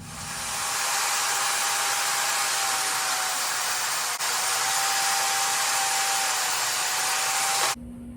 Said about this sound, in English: And then I'll drill drain holes.